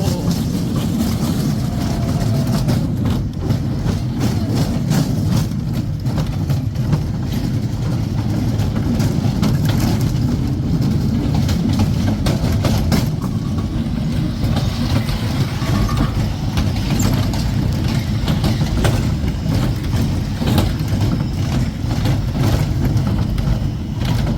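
A roller coaster train rolling along its track and over a drop, with a loud, continuous rumbling roar from a rider's position that holds steady throughout.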